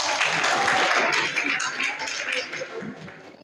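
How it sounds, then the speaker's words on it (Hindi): A crowd in an inter-college hall applauds quiz contestants for correct answers, a dense burst of clapping that is loudest at the start and then thins and fades over a few seconds. "और सही जवाब वालों के लिए तालियां बजाई जाए।"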